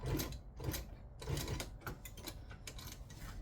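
A domestic sewing machine stitching a bag, running forward and back-stitching in a steady, rhythmic mechanical chatter that pulses continuously at close range.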